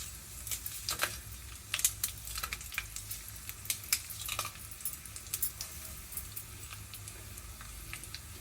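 Dried red chillies fry in a hot pan with lentils, giving continuous crisp sizzling and popping crackles close by with scattered sharp ticks throughout.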